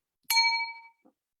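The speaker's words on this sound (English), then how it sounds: "What's the bell? What's the bell?" A single bright bell ding rings out clearly and alone, its tone ringing on and fading over about half a second, followed by a brief faint knock.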